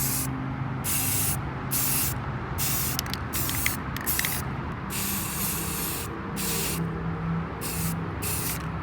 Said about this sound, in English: So I'm gonna go spray paint these